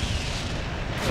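Naval gunfire in the Ironclads II tactical game: a single heavy, booming cannon blast rolling into a sustained low rumble, loud and close.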